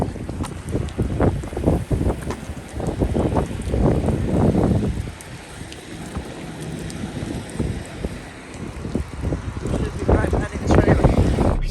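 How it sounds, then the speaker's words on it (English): Strong winter storm wind buffets a microphone outdoors at a truck stop, in loud, gusty low rumbles that swell and ease over about twelve seconds. "If this wind don't knock me over."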